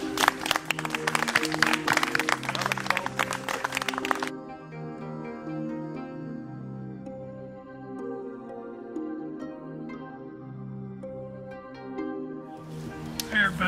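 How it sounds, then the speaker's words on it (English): Audience applause for haiku contest judges at a writers' gathering in Harleigh Cemetery, a dense burst of clapping for about four seconds that stops abruptly, followed by sustained musical tones with a brief return of clapping at the end. "I think they deserve a round of applause"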